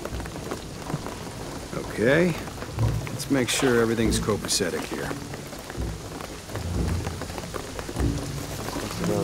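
Steady rain pours in Shadow of the Tomb Raider, a constant hiss under a voice and game sounds, with occasional low rumbles.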